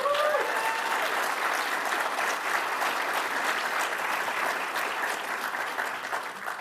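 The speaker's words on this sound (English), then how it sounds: "How about a big round of applause?" Steady crowd applause from an audience at a university groundbreaking ceremony, sustained and even for several seconds before tapering slightly.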